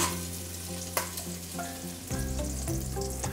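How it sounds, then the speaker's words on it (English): Sausage browns in olive oil in a frying pan, a steady close sizzle and crackle with occasional stirring scrapes and pops, no voices. "I'm going to let the sausage brown."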